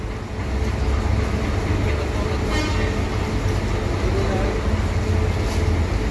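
Hino AK 240 Euro 4 tourist bus engine running at a busy bus terminal ticket counter, a steady loud low rumble throughout with ambient crowd noise around it.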